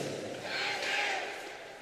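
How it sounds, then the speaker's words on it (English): Hockey crowd cheering and shouting in an arena during the Tiger fight song, a faint distant swell of many voices rising and fading. "the crowd's getting into it too"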